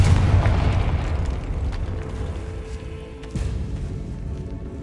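A fiery Confringo spell blast in Hogwarts Legacy on PS5: a deep rumbling boom that rolls on through the clip, with a second thud near the end, loud and close with no talking.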